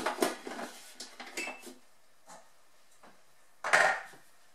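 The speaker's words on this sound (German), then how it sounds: "Dann verschließen wir den Thermomix." A Thermomix lid is shut while making a goat cheese spread, giving a few clattery plastic knocks and rattles up front, then a quiet gap and one louder sharp clunk near the end, with no talking.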